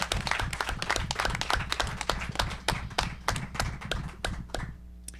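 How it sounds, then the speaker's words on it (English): Applause fills a press conference kicking off the inaugural USA Pro Challenge women's race, a dense run of claps at moderate level that thins out and fades near the end, with no talking over it. "I think that deserves a round of applause."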